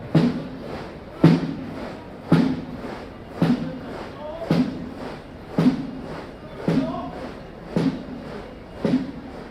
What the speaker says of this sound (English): the sound of the Queen's Colour Squadron, or QCS, during a changing of the guard ceremony